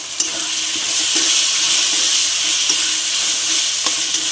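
Spice masala of red chilli, turmeric, coriander and cumin powder with a whole garlic bulb sizzles steadily in a pan for chicken kosha, with a spoon scraping and stirring now and then.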